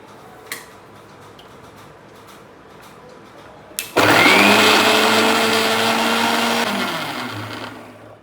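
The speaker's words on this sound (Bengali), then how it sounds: "মিক্সিতে সব মশলা দিয়ে নিয়েছি" A mixer grinder loaded with spices starts after a few quiet seconds and runs as a loud, close, steady whirring drone for about four seconds before winding down, with no talking.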